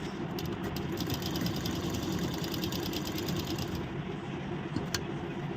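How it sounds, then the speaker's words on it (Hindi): A domestic sewing machine runs steadily while stitching along the neckline of a princess-cut blouse, a close, continuous mechanical whir with rapid needle clatter and no talking. "अभी देखिए हम सिलाई लगाएंगे नेक पर"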